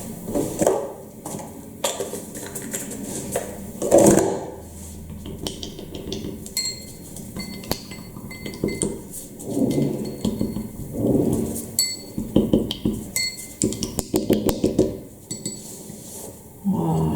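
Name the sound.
clinking while mixing paint colours in cups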